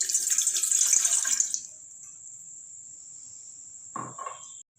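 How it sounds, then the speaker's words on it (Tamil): Water splashes briefly into a glass for a second or so while making lemon tea, then stops, leaving a thin, steady high whine and a faint clink. "அதனால் ஒரு கிளாஸ் தண்ணி ஆட் பண்ணிக்கிறேன்"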